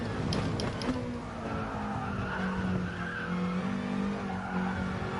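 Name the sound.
car tyres skidding under trail braking, racing video game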